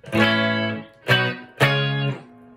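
Three crunchy, distorted electric guitar chords ring out through a Supro Delta King 12 amp with no boost: one long sustained strum, then two shorter ones.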